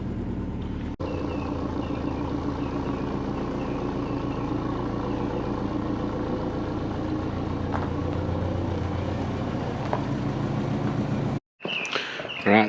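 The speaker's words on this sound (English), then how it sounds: "Right, let's start her up. Nice. Let it warm up for a little bit." A Subaru Forester SF5 engine starts and warms up, holding a steady, rumbling idle close by for several seconds before a brief cut and a scrape of handling noise.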